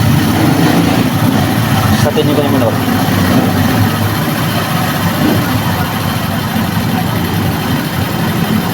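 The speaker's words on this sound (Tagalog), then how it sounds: "Oh, maganda po yung andar ang makina." A motorcycle engine idles steadily and loudly after a CBI ignition unit is fitted to a bike long left unused, with someone speaking briefly over the running motor.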